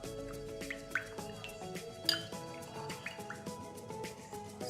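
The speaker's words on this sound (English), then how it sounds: "So the jelly mixture I'll be pouring on top of the cheesecake, nice and slow." Jelly mixture poured slowly over a no-bake pineapple cheesecake gives soft irregular drips and liquid splashes, quiet and close, with faint background music and no voices.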